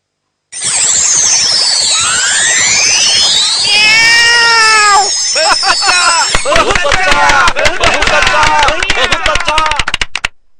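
Cartoon cat meows and caterwauls loudly and continuously, with long sweeping wails giving way to rapid choppy yowls and squeals, a voice imitating a cat close up.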